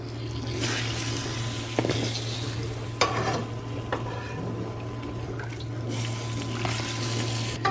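Broth being poured over chiles and crackers for homemade mole, giving a steady liquid splash and stir-like sloshing with a few sharper clinks, all under a constant low hum.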